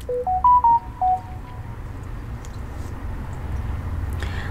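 A mobile phone plays a short melodic ringtone of four or five quick rising and falling beeps, fairly faint over steady low room hum, then stops.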